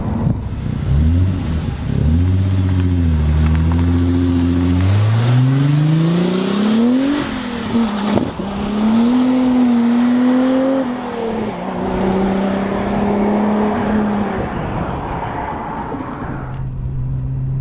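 Venturi Atlantique 300 Turbo engine revving through the gears, rising and falling in pitch with each shift, then settling into a steady cruise drone, loud and close with no talking.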